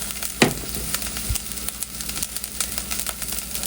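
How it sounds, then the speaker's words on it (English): Food sizzles and crackles steadily in hot bacon fat close up, with a few sharp pops and light scraping. "Listen to that sizzle."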